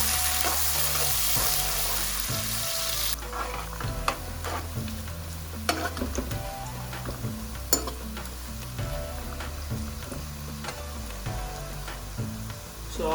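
Sliced onions fry and sizzle steadily in a pan for chicken biryani, with bay leaves in the oil, while repeated stirring scrapes and clatters through the sizzle. No one speaks.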